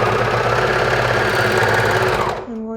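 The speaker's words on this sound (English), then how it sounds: "I'm just lifting my foot and sewing" A sewing machine stitching a wide strap cami runs loud, fast and steady, close by and alone, then stops abruptly near the end, leaving a brief fading hum.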